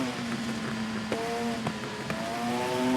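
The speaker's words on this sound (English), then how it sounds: "And heavy engine braking through the corner." An old Suter racing motorcycle in TT Isle of Man, engine braking through a corner: a droning engine note that shifts pitch with down-changes and burbles, steady and close, no talk.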